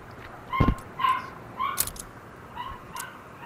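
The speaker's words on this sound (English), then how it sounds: "He just barks and whines and shit." A dog barks and whines in short bursts, sharp yips and whimpering cries spaced a second or so apart, fairly close but not loud, over a faint background hiss.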